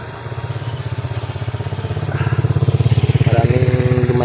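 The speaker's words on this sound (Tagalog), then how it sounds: "Maraming dumadaan dito tol na mga motor" A motorcycle engine rumbles steadily nearby, its pulsing growl rising as it passes close, with faint clatter in the background.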